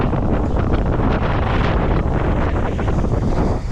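Continuous roar of wind and water at a ferry crossing near Yakutsk, waves washing steadily with heavy wind buffeting on the microphone and no clear breaks.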